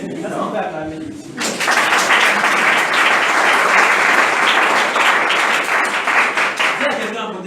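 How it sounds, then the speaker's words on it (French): An audience at a French-language gathering breaks into loud, sustained applause and cheering that starts abruptly and carries on steadily for several seconds. "Alors on va acclamer ici."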